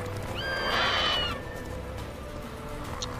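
A horse in the video game Witcher 3 lets out a single clear, fairly loud whinny near the start, then goes quiet, with faint hoof clops underneath.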